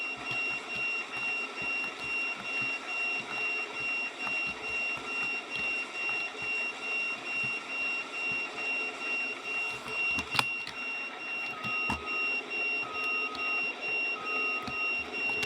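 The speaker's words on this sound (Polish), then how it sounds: "O, już pika." A combine harvester's warning beeper signals a full grain tank during a rye harvest, sounding as regular repeated beeps over the steady hum of the machine's engine, with one sharp click partway through.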